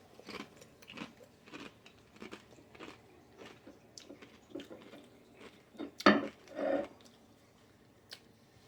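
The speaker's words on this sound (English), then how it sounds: "Sorry for the crunching." Tostito tortilla chips dipped in hot sauce are crunched and chewed close to the mic, a run of rhythmic bites with one loud crunch near the end.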